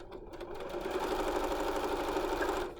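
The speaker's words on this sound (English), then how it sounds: "And go machine, come on baby." A sewing machine stitches a pleated fabric face mask, a close, steady whirring run of rapid needle strokes lasting a few seconds before slowing at the end.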